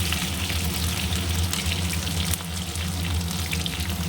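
Home-grown yam pieces fry in a pan for a curry, a loud, constant close-up sizzle and bubbling crackle with no voices.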